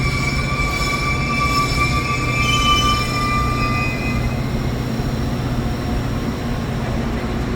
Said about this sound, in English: UP West Line Train 44 heading back to Chicago Ogilvie, which is the former Chicago and Northwestern Terminal